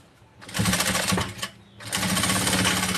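A sewing machine stitching a fabric pencil case, with two bursts of rapid, loud mechanical rattling up close, separated by a brief pause.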